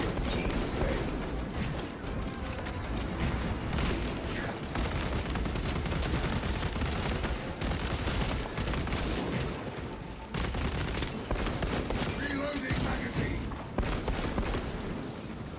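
Dense, continuous bolt weapon fire with cracking rounds fills a chaotic Space Marine 2 battle, with rapid shots and booming impacts piling up loudly throughout and voices faintly mixed in.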